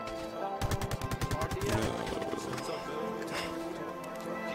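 Rapid automatic gunfire in a GTA RP street scene, a burst of sharp evenly spaced shots followed by scattered loud cracks, with players talking over the action.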